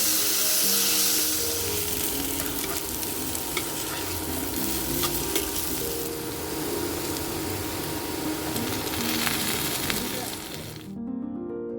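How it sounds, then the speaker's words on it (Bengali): Ridge gourd fries with half-cooked potatoes in a pan, giving a loud, dense sizzle with stirring scrapes throughout. A voice sounds faintly underneath, and the sizzle cuts off abruptly just before the end. "দিয়ে ঝিঙেটা একটু ভেজে নেবো।"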